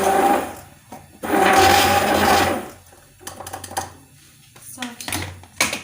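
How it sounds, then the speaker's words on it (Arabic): A blender whirs through juice with half a liter of added water in two loud bursts, the second longer, followed by quieter clinks and clatter of kitchenware. "دابا غادي نزيد نص لتر وغادي نعاود نخلط"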